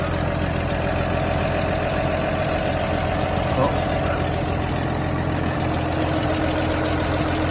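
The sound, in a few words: car engine idling after oil change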